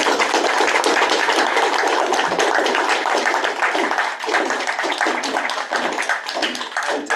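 Applause from an audience at a book launch event at a law school, sustained dense clapping that fills the room steadily throughout, loud and continuous with no pauses.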